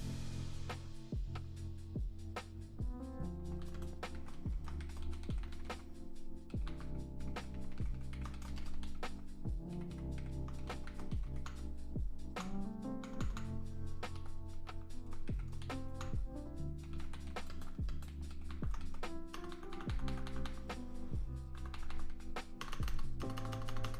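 Someone types steadily on a computer keyboard that has been acting faulty, with sharp close key clicks in irregular bursts and runs over a low steady hum, no talk.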